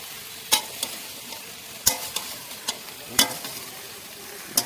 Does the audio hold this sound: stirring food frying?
yes